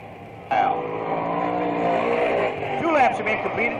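Race cars roar away under the green flag at Merrittville Speedway, a short oval, their engines swelling loud and close as the field gets underway, with an announcer talking over the rising engine noise.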